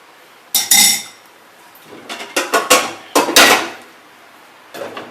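A lid settles onto a cooking pot of baked beans and mackerel with a run of metallic clanks and clinks, a sharp rattle first, then several quick knocks as it seats, and a last faint tap, close and with no talking.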